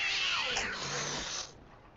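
A cartoon cat meows from a cat sled decoration in The Simpsons: Tapped Out, a single loud, drawn-out bright meow about a second and a half long that glides downward, heard alone and ending abruptly.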